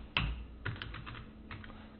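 Keys clack on a computer keyboard as a guest's name is typed into an invite form, a few separate quiet taps spread across a couple of seconds with pauses between them.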